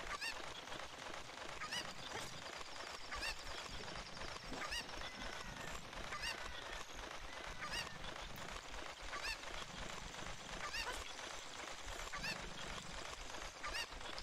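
Cuckoo chickens in the Zelda Ocarina of Time video game, fast repeated clucks and squawks over a busy rhythmic game soundtrack, steady and fairly quiet throughout.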